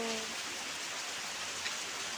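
Steady rain falls in an even, unbroken hiss at moderate distance, fairly soft, with no voices over it.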